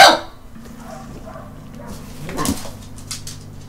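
A dog in a room gives a short bark at the very start, then whimpers and yips softly while a person talks nearby over a low, steady hum.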